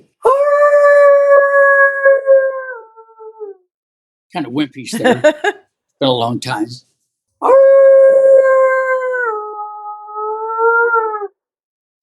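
A man imitates a coyote howl with his voice, giving two long, loud, wavering howls that rise and trail off. He speaks briefly between them.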